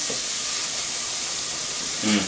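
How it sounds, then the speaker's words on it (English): Garlic sautéing in a pan for a tomatillo dish, a steady close hiss and sizzle running throughout, with a brief murmur of voice at the start and end. "Let that garlic kind of cook a little."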